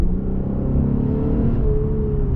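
Lexus RC350 coupe with a naturally aspirated V6 engine, artificial sound controller switched off, revving loudly and steadily with a deep, sustained growl that climbs slightly in pitch, heard close up with no talk.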